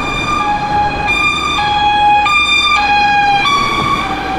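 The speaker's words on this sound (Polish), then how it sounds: "Karetka." A loud ambulance siren on a London street alternates between two tones in a steady hi-lo pattern, close by over traffic rumble.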